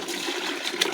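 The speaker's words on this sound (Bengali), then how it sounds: "দেখো আমার গাছে জল দিচ্ছি।" Steady rush of water poured onto potted plants at a country house during summer, a continuous close hissing splash.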